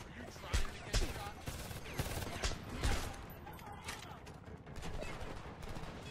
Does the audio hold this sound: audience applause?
no